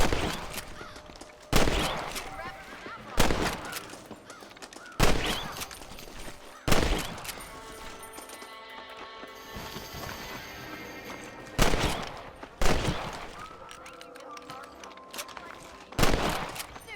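Rifle shots while hunting rabbits in the video game Red Dead Redemption, with about eight sharp cracks spaced a second or two apart, each trailing a brief echo, over faint outdoor ambience and occasional speech.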